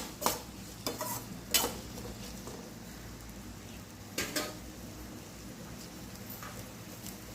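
Sliced medium onion sautéing in oil for bitter gourd chukka, a steady soft sizzle with several sharp stirring scrapes near the start and around the four-second mark, no talking.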